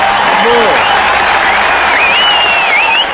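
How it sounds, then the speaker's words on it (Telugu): A crowd at a public speech in a comedy film scene breaks into loud, sustained applause, with whistles rising over the steady clapping throughout. "మళ్ళీ చప్పట్లు."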